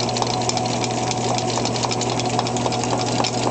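A 1915 Adams Brothers lathe runs on a flat leather belt drive, giving a steady mechanical hum with a rapid rhythmic clatter, close and continuous throughout.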